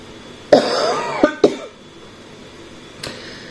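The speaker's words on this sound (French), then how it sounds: "je tousse" A person coughs with irritated bronchi and shortness of breath: a harsh cough-and-throat-clear burst, a quick double cough soon after, then a fainter single cough, close to the mic with no talking.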